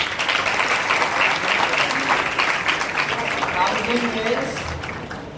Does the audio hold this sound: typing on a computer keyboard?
no